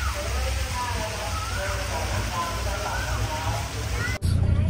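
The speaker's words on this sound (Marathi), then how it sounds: "हे पाहू शकता, वाव, वॉटरफॉल." Roaring waterfall at a jungle-themed waterfall park in Thailand, a steady loud rushing wash of water with a faint voice beneath it, cut off abruptly near the end by a brief louder burst.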